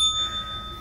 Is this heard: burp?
no